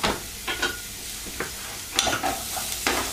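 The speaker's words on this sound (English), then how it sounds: "So I just need to fry these for about 2 or 3 minutes just until they're softened" Onion and garlic fry in a pan for a curry, sizzling loudly and close, broken by repeated scraping stirs at irregular intervals.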